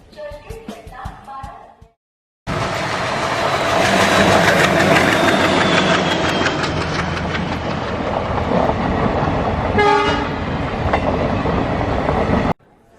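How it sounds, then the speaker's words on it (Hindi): A train to Mumbai arriving, with a brief voice and some tones first, then a loud sustained rumble of the train and rail clatter for about ten seconds, plus a faint horn-like tone partway through. "मुंबई जाने की ट्रेन आ गई है"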